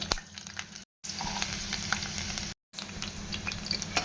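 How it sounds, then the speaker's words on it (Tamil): Garlic cloves deep fry in hot oil for an aloo bhorta, giving a dense, close, continuous sizzle with faint bubbling crackles. It is cut by two brief silent gaps, and no one speaks. "பூண்டை நல்லா இந்த மாதிரி டீப்பாக ஃப்ரை பண்ணி எடுத்துக்கலாம்"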